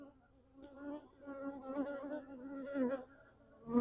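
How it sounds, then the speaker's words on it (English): Honey bees drone in a steady, close buzz around the queen at an open Russian nuc hive, the hum swelling and fading as individual bees pass near. "These bees smell the queen's pheromones, so they're coming over here to check things out."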